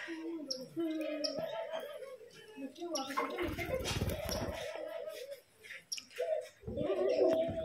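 Cage birds at a busy Keshabpur market, cockatiels and budgerigars among them, chirp and coo in short bursts over crowd chatter and a brief rumble of background noise.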